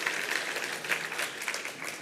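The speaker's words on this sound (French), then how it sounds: "Donc si on peut les applaudir, je crois que c'est tout à fait mérité." An audience at a French public conference applauds, a dense, even patter of many hands clapping at once, steady and moderately loud throughout the short burst.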